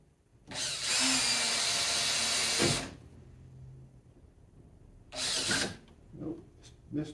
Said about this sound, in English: so I can get the drill in it